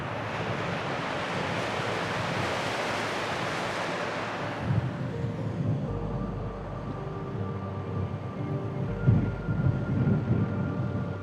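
Monsoon rain at Naneghat hisses as a broad, steady wash that fades after a few seconds, leaving softer outdoor rumble and light wind buffeting on the microphone, with no voices.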